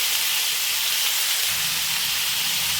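Tomatoes, onions and cashews fry in a pan for a mushroom gravy, producing a loud, steady, close hiss and sizzle that holds unbroken throughout, with no talking.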